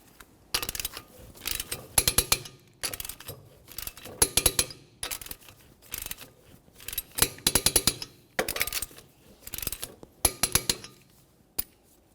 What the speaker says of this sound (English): let's torque these to 80 foot-pounds in a crisscross manner